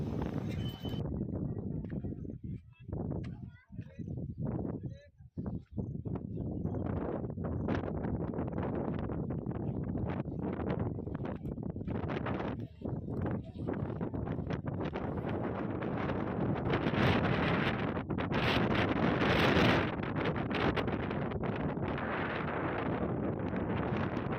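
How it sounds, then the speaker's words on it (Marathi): Loud, steady wind buffets the microphone, a continuous rushing roar with gusts that swell and ease throughout. "तुम्हाला थोडासा वाऱ्याचा आवाज मागे व्हिडिओमध्ये बॅकग्राऊंडला ऐकू येईल"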